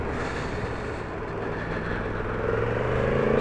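Yamaha MT-10 motorcycle being ridden, heard as a dense, close engine and wind rumble that holds steady and swells slightly louder toward the end. No voices.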